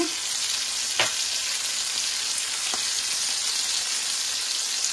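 Aubergines seasoned with salt and garlic fry in a pan with a dense, steady sizzle throughout, close and even, with a couple of faint clicks of stirring and no voices.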